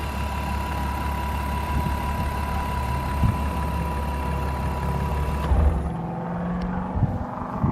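A BMW M3 with 130,000 miles idles steadily under the open hood, a smooth continuous engine drone that cuts off near the end, leaving a quiet tail.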